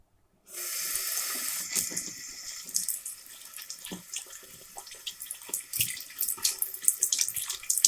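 A bathroom tap runs steadily into a sink while the face is washed, a continuous close splashing stream that starts abruptly and carries irregular spatters and drips throughout, with no talking.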